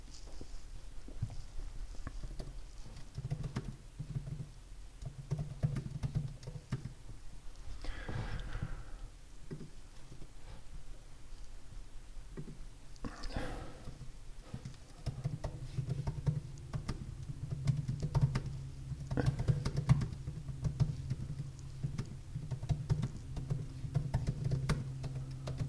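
Soft, scattered keyboard taps at a computer while playing the Hay Day farming game, faint and steady over a low background hum for about twenty-five seconds, with no one talking.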